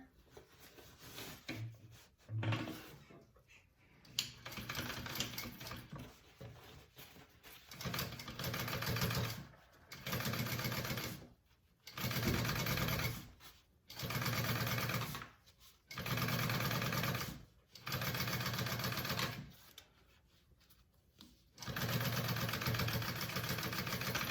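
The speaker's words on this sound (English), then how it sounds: "Top stitch that together." Sewing machine top stitching a handbag divider pocket, running in repeated steady bursts of a few seconds each with short pauses between, close and fairly loud.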